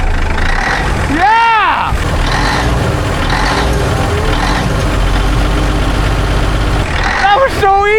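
A 1980 Caterpillar-powered K-Whopper truck engine idles with a loud steady rumble, while a voice shouts briefly over it and whistle-like squeals rise near the start and end.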